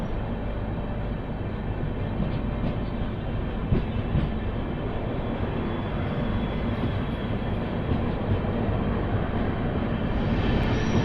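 The 16032 Andaman Express, bound from Shri Mata Vaishno Devi Katra to MGR Chennai Central, passes close by with a continuous loud roar of wheels on rails, rhythmic clickety-clack running throughout.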